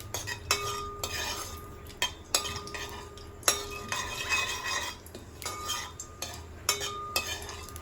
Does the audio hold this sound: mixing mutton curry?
yes